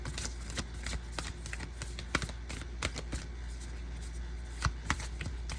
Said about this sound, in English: I'm still learning how to shuffle these cards.